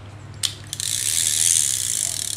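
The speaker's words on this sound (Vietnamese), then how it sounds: "Con này dòng tua rất là nhẹ luôn" A Japanese handheld fishing reel with three bearings and three gears, winding smoothly after two sharp clicks, then a steady close whirring ratchet hum that carries on alone.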